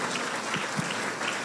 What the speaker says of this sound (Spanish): Todo aquel que lo entienda, dele un fuerte aplauso al Todopoderoso.